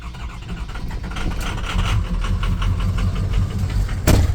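An old work truck engine cranking and starting hard, a steady low rumble with uneven knocking pulses and a sharp burst near the end, loud and close with no talking.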